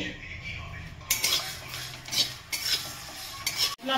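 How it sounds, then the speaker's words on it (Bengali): A spatula scrapes and stirs dry coriander, fennel, panch phoron, dried chillies and cumin roasting in a metal pan, with intermittent clinks and rustling scrapes at a moderate level. "আচারের জন্য ধনে, মৌরি, পাঁচফোড়ন, শুকনো লঙ্কা, জিরে শুকনো খোলা একটু ভেজে নেব।"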